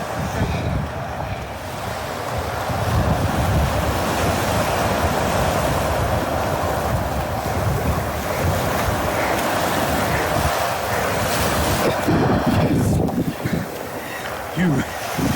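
Ocean waves and wind at the sea shore make a constant roaring wash of surf and gusty wind noise, loud and unbroken throughout.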